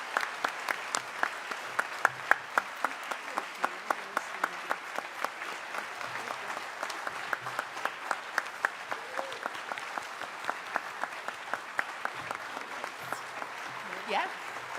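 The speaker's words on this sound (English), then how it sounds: "join me in giving one final warm round of applause for Elizabeth Holloman" Applause from an audience at a city's State of the City address, a steady patter of many hands clapping for about fifteen seconds, moderately close and even, with faint voices mixed in.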